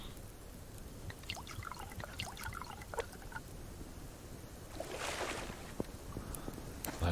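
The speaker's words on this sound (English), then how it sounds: "I'm just going to dive down to the water, refill those canteens." Water trickles and splashes softly as canteens are refilled in a survival video game, a faint liquid patter with brief bubbling surges, heard alone without speech.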